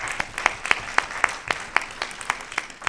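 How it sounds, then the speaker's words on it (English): A gardening beautification awards ceremony crowd applauds first-time award winners, a moderately faint spread of clapping with a few sharper claps landing in a loose, regular pulse throughout. "Can you give them a round of applause?"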